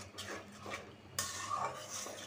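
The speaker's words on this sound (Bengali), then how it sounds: "মশলাটা আমি সুন্দরভাবে কষায় নিব।" Ground chili, turmeric and coriander spices for spicy chicken curry being stirred in a pan, with soft scraping strokes of a utensil against the metal and a faint sizzle underneath, and no talking.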